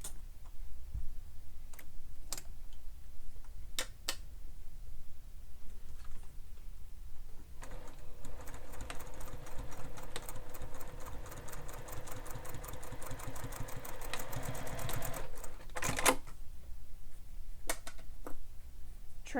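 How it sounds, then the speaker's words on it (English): A sewing machine runs steadily, stitching folded fabric along the seam allowance, its fast even clatter sustained for several seconds after a few scattered clicks and handling taps. "Now we're going to sew this using the seam allowance given in the pattern."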